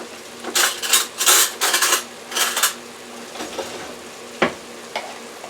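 Onions frying in a pot for about five minutes as garlic paste goes in: bursts of loud close sizzling and stirring in uneven pulses, then quieter crackle with a couple of sharp utensil knocks against the pot.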